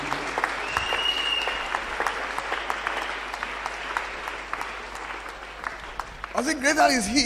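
Congregation at a church fasting and prayer service clapping steadily and cheering, a dense wash of applause that carries on until a loud voice breaks in over it toward the end.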